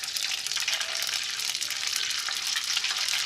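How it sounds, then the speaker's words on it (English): Food sizzles and crackles in hot oil in a deep fryer, a dense, steady hiss with fine popping bursts throughout, fairly close and with no voices. "my oil is ready to go, so we're going to start frying up"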